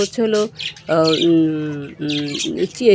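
Caged birds squawk and chatter up close, harsh harmonic calls overlapping in quick succession.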